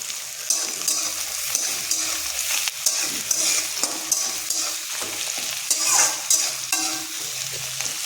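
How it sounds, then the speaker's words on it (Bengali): Sliced onions frying slowly in fairly hot oil seasoned with a pinch of asafoetida, a continuous close crackling sizzle broken by repeated scraping stirs of a spoon against the pan, with no voices. "পেঁয়াজটা ভাজা হোক ধীরে ধীরে। এখানে তেলটা মোটামুটি ভালো গরমই আছে।"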